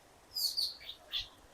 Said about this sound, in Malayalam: കിളികളുടെ സൗണ്ട് കണ്ടോ, അടിപൊളിയായിട്ട് കിളികളുടെ സൗണ്ട് കേൾക്കാം.